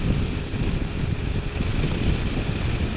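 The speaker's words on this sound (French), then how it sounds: "j'ai le vent de face, comme d'habitude. Et il souffle pas mal." Headwind roaring past a rider on a 125 motorcycle on the motorway at night, a dense, steady low-heavy wind rush with engine drone underneath, filling the whole stretch with no speech.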